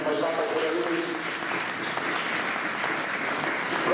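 Applause at a 2019 living nativity scene in Panettieri: a crowd claps steadily and loudly throughout, with voices talking underneath the dense clapping.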